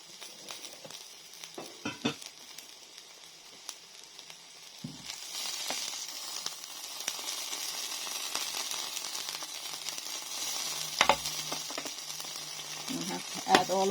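Kale is stirred into a pot of mac and cheese, first with a few clinks and scrapes, then a steady sizzle builds under repeated light stirring sounds.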